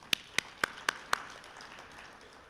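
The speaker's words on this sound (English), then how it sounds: "we deserve to clap our hands for that" Five crisp hand claps in an even, quick rhythm at a Zimbabwe labour and employment summit, then quiet room tone.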